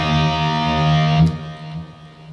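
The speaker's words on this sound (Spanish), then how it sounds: "Si yo tengo toda la distorsión aquí abierta," Electric guitar with its distortion fully open rings out as a loud sustained chord with a buzzing, saturated tone, then fades and thins near the end.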